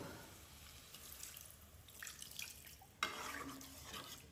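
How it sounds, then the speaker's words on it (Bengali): Water is poured into a pan of small river eel fish (baim) curry being braised, a soft running, splashing pour that starts with a sudden burst near the end and continues steadily. "এখন এখানে আমি একটু জল দিয়ে দিব।"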